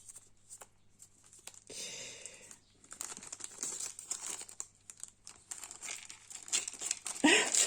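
A plastic sachet of charms being opened by hand, with close, crisp crinkling and rustling in bursts that stop and start, and a brief sharper tear near the end, over a faint low hum.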